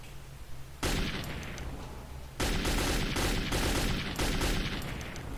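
Gunfire in the video game Metro 2033 comes as dense, loud crackling bursts that start suddenly and continue over a low background rumble, with a short lull between the two volleys.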